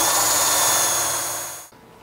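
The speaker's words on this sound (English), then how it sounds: "pilot drill those holes that we put in the frame earlier" A power drill whines at full speed as it pilot-drills screw holes into a wooden chest of drawers frame, then winds down and stops abruptly near the end.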